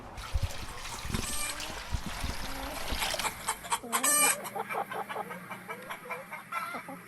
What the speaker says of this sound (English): We're outside the chicken pen right now.